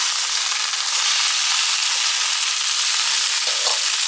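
Scotch fillet steaks and bacon frying in a pan, a steady, loud, dense sizzle that continues without a break and with no talking.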